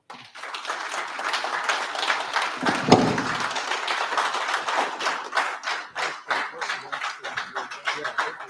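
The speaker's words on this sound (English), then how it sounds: "Please, a round of applause, please." An audience at a London conference of the African Diaspora Corporation claps for a long stretch, loud and dense at first and then thinning into more distinct, rhythmic claps near the end.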